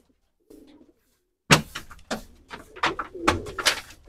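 A pigeon coos in a series of close, throaty pulses with a brief soft sound before them, rising and falling in an uneven rhythm.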